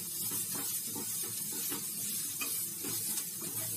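Onion sautés in a pan for semolina discs, giving a soft, steady hiss and sizzle with faint stirring scrapes, fairly quiet and close, with no voices.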